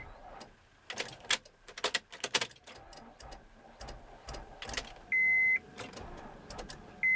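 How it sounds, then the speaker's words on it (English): Rapid clicking and ticking from a car with a dead battery that won't start, with irregular clatter and a steady electronic warning chime sounding twice. "This is the sound of a dead car battery."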